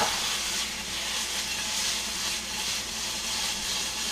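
Food seasoned with paprika frying and sticking in a pan, a continuous close hiss and sizzle with gentle swells, no voices.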